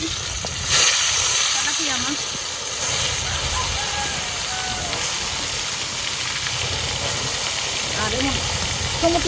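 Fish and tomato fry on a clay stove in a village outdoor kitchen, giving a steady sizzling hiss throughout while a voice talks over it.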